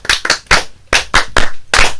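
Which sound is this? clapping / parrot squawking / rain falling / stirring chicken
clapping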